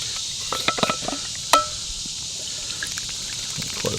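Water trickles and pours into a bowl of dry trail bread mix, a thin steady stream with a few small splashes and drips, close and fairly quiet outdoors, with no talking.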